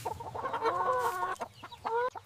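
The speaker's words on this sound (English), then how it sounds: "Look at these! These are beautiful hens." Hens on a farm cluck and squawk close by in a short, lively burst of repeated calls.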